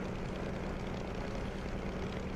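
A Grumman F6F Hellcat's radial piston engine rumbles steadily at low power while taxiing in Microsoft Flight Simulator 2024, a dense, continuous drone that holds constant throughout without any speech over it.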